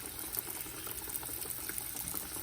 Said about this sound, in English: now we're going to fry them. Our vegetable oil is very warm.